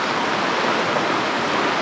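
A river in flood after heavy monsoon rain in Konkan, rushing as a steady, dense broadband roar of turbulent water, close and loud throughout, with no voices.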